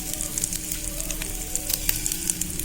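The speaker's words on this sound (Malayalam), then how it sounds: "ജീരകം നന്നായി മൂപ്പിച്ചെടുക്കുക" Cumin seeds sizzling steadily in hot oil in a pan, with small ginger pieces, for Tamil Nadu–style pongal; a continuous close crackle with bright pops scattered throughout.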